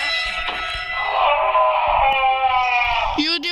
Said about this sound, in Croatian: opet neko vrišti